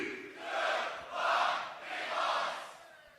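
Beatbox battle crowd shouting its vote in three rising, swelling roars, distant and massed, with brief lulls between each surge.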